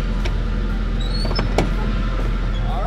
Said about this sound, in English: Gotta lock up the back of the truck.